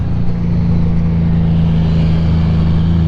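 A Honda GL1500 Goldwing motorcycle engine pulls hard under heavy throttle, a loud, steady, deep hum with a low rumble, held close and constant throughout.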